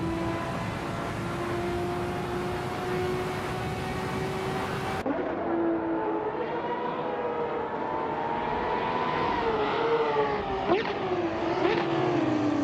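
A 1997 Acura NSX SCCA race car engine in a racing video game, droning at a steady high pitch and then shifting, with rising and falling revs as it races on, continuous and fairly loud with no talk.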